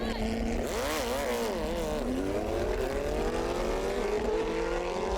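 A Koenigsegg Jesko car and a tuned Hayabusa motorcycle drag race, with engines revving hard and climbing in pitch through gear changes. The sound is steady and fairly loud, with voices mixed in.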